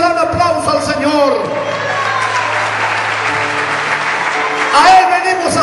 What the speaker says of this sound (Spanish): Yo no sé si usted le da un aplauso al Señor.